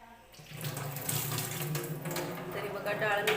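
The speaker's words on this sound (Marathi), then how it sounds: "आणखीन एकदा मी या पाण्याने धुवून घेणार आहे डाळ" Dal being rinsed under running tap water in a kitchen sink, a steady close splashing rush with brief sloshing as the lentils are swished, continuous and fairly loud throughout.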